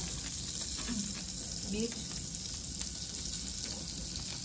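Butter sizzling and frying in a pan, a steady crackling hiss running throughout at moderate level, with a few faint clinks and a brief spoken word.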